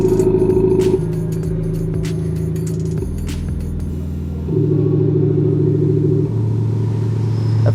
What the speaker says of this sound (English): At the press of a button, you can activate the exhaust.